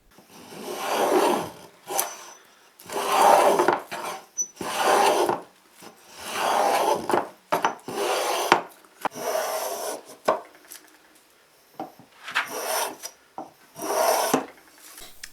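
A rasp files a wooden Stratocaster guitar neck during carving, giving close, dry scraping strokes in a steady back-and-forth rhythm of about ten bursts separated by short pauses.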